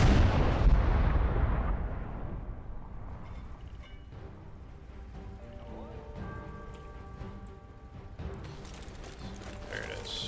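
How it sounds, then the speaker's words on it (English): Field artillery fire in the Call to Arms Gates of Hell video game opens with a loud, heavy boom that rolls away into a long rumble, with fainter battlefield noise and brief talk beneath. "they're attacking with a bunch of field artillery"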